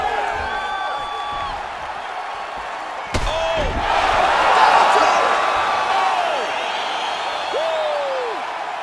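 Crowd roar in the UFC 5 video game as a fight is finished, broad arena noise swelling midway under a sharp slam, with voices exclaiming and talking over it.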